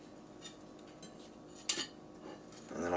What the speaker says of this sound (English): I'm just going to actually just cut a slice right off the breast here to try.